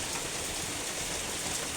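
Steady, dense hiss of rain falling, even and unbroken throughout, with no voices.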